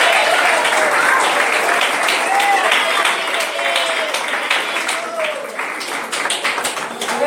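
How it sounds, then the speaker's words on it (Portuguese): Energetic applause fills a church as the congregation claps together, loud and close, steady for several seconds before easing slightly, with scattered voices calling out over the clapping. "Vamos aplaudir o Senhor Jesus."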